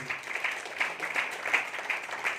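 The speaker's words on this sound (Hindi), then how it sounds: "एक छोटा शानदार ताली।" Small audience applause at a business plan seminar, moderately faint, steady broadband clapping with no talk over it.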